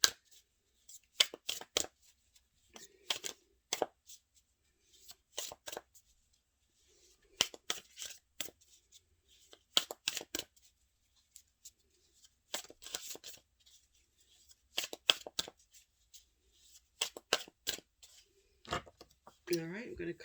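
A deck of tarot cards is shuffled and cut in short, crisp riffles and flicks, scattered bursts separated by near-silence, faint and close, with a voice speaking now and then between them.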